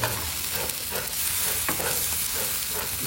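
King fish frying in a hot pan, a steady loud sizzle running throughout with a few brief stirring scrapes, close and with no voices.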